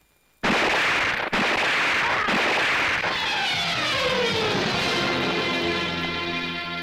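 Pistol shots loaded with blank rounds go off in a 1990s Bollywood action film: three sharp, loud bangs about a second apart, followed by a long ringing, echoing tail that slowly fades.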